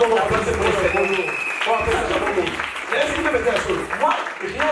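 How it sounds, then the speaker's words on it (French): A church congregation claps and applauds during a sermon, with sustained clapping blended under a preacher's loud voice and crowd noise. "Applaudissez pour les Seigneurs."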